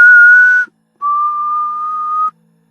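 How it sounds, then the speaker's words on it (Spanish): Two clean, steady whistle tones, a short one then a longer held note after a brief pause, loud and alone with no talking. "cuando suena un silbido cerquita de ti"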